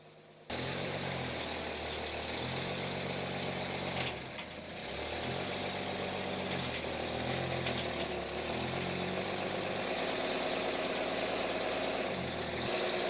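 A long-neglected Chevrolet Nova engine idles steadily up close, a low rumbling drone with a faint rhythmic pulse that holds for the whole stretch and never drops out.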